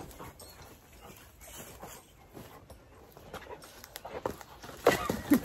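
Dogs shuffle and whimper beneath a Sportsman's Condo SC1 hunting blind, faint scrabbling and soft whines close by, growing louder with a few sharp knocks toward the end.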